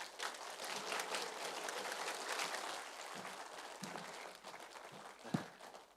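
Audience applause at a literary concert following a poetry reading by poet Do Jong-hwan, a steady wash of many hands clapping that carries through the whole stretch, with a few sharper individual claps near the end.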